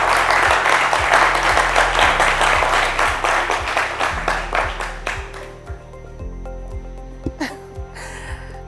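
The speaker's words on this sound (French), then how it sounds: "sous vos applaudissements s'il vous plaît." Audience clapping at a school competition final between Lycée d'Excellence Alassane Ouattara de Grand-Bassam and Lycée Moderne de Koumassi, dense and steady at first over a thumping music beat, then thinning out and fading as the music carries on alone.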